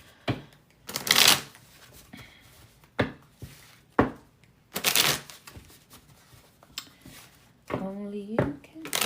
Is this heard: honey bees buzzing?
no